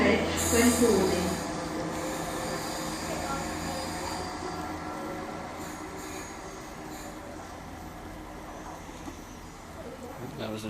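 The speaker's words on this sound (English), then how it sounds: "That was the train to Portsmouth Harbour" A train bound for Portsmouth Harbour passes through Westbury station, loudest at the start, then settles into a long, steady rumble of wheels on rail with faint squealing, while a person talks nearby.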